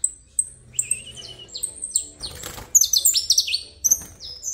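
A Brazilian saffron finch (canário-da-terra) sings in a new cage, giving a close, loud run of bright chirps and sweeping whistled phrases that grows busier toward the end.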